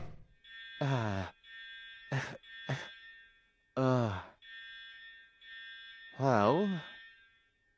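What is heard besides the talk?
fire alarms going off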